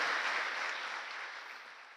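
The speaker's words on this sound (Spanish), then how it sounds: "Dale un fuerte aplauso a la palabra del Señor" A church congregation gives a burst of applause that starts strong and steadily fades over a couple of seconds, heard from a moderate distance.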